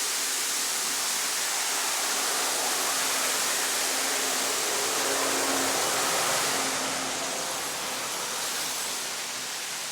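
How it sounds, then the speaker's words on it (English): Steady, broad rushing water roars continuously, a dense hiss from a waterfall beside a road in Vietnam heard from nearby, with no voices. "There's this waterfall now."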